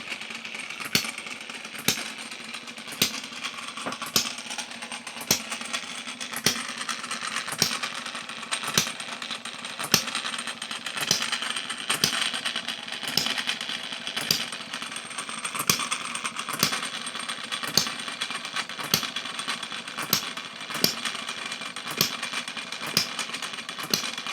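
Homemade six-cycle oddball engine, machined from scratch, running steadily with regular sharp firing pulses evenly spaced throughout, close and fairly loud, with no clear shutdown at the end.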